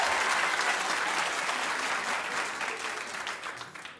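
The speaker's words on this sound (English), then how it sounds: "Clap if you like her." A studio audience at a daytime talk show bursts into dense, loud applause that carries on steadily throughout and fades slightly toward the end, with no voices over it.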